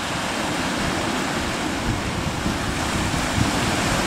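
Loud, continuous roar of rough sea waves crashing against a small fishing boat heading out in strong wind, with heavy wind buffeting the microphone and no talking.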